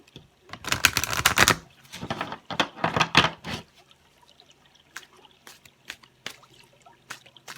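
Tarot cards riffle-shuffled close up in two crisp, fluttering bursts, each lasting about a second, followed by softer scattered taps and card handling in a quiet room.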